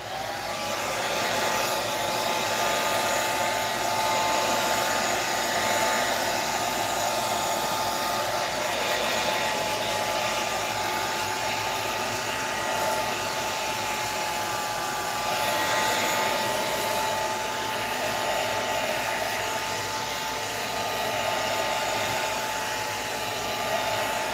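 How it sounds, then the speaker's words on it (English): A blow dryer drying a mixed-media book page runs steadily and loudly for the whole stretch, a constant airy roar with a faint whine, nothing else heard. "let me hit it with the blow dryer"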